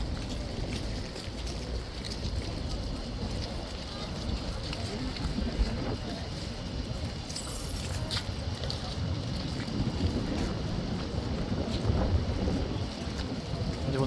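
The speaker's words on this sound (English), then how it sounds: "It is super windy." Strong gusty wind buffets the microphone outdoors in London near the King's Guard, a steady low rumble of wind noise filling the whole stretch with no break and no one talking.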